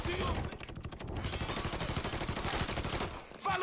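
Dense gunfire from a Mafia 3 shootout, rapid overlapping shots and bursts that rattle loudly and continuously for several seconds, with a voice faintly underneath.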